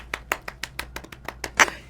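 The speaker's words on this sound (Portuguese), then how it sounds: "Palmas!" A small group claps hands at the opening of a podcast, a quick run of about a dozen sharp, close claps with one louder burst near the end, no talking over them.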